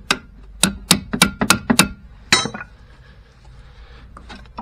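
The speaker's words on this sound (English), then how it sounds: "use a crowbar to lever the joint" A crowbar prying at the front wishbone ball joint of a Vauxhall Corsa gives a quick run of about eight sharp metallic clinks and knocks, then one heavier clank, followed by quieter shuffling and scraping.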